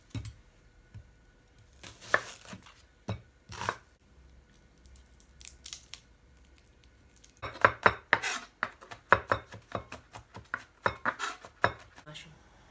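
Onion and garlic chopped on a board for a kimchi pie: a few scattered knife taps at first, then a rapid run of close, crisp chopping strokes in the second half, no talk.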